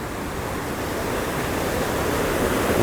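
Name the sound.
rainwater stream flowing under a metal grid walkway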